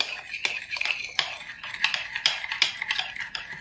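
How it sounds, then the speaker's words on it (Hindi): A spoon stirs a thick paste of Colgate toothpaste and sugar in a small bowl, making quick, scraping clicks and taps against the sides in an irregular rhythm. It sounds close and fairly quiet, with no talking. "तो दोस्तों इस तरीके से हम इसे अच्छे से मिक्स करेंगे"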